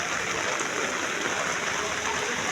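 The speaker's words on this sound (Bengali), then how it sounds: "নবাবগঞ্জের ব্যাংকের সামনে বহুত বৃষ্টি হইতেছে" Heavy rain pours outside a bank in Nawabganj, a steady, dense hiss that stays even and constant throughout with no breaks.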